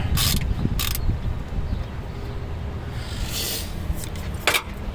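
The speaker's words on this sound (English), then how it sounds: "applying any sort of pressure to the handle of this ratchet. And these are coming right off." Ratchet wrench working loose the mounting bolts on a Quadrajet carburetor, a few bright metallic clicking bursts against a steady low rumble of background noise, close by with no talking.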